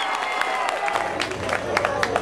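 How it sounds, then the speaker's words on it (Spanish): An audience at a rural countryside evening gathering claps and cheers, a moderately loud stretch of scattered claps and crowd noise with a low hum underneath. "¿Y dónde está el aplauso?"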